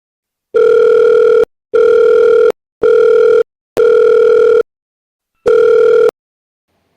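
Phone ringback tone, five loud steady electronic beeps of similar length with short silent gaps between them, heard alone with no voices.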